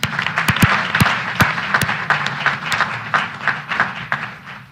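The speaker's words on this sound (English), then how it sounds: "So let's give them a round of applause." A hearing audience claps for a panel at the close of a House Oversight subcommittee field hearing on critical minerals, with irregular, moderately loud hand claps and a few sharp, close individual claps standing out.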